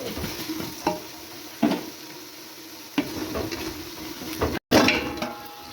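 Ground spices fry and sizzle steadily in a pot of goat paya, with a spoon or ladle scraping and stirring at intervals and one brief dropout partway through; no voices.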